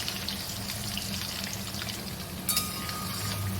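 Potatoes frying in oil and butter for chicken biryani, a steady close hiss with faint watery crackle throughout and a brief sharper burst near the end.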